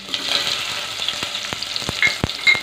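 Onion sizzles and crackles steadily in hot oil alongside garlic for a spiced tempering, close and continuous with a few sharp pops and stirring sounds, no talking.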